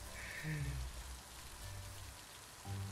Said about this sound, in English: Look at all these people just singing around in the rain.